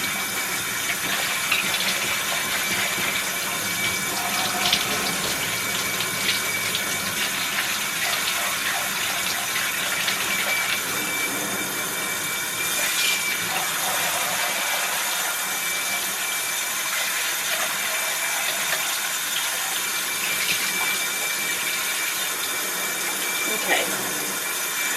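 Water runs steadily from a bathtub tap, rinsing the inside of a vacuum cleaner part, a loud continuous rush with splashing and clatter throughout.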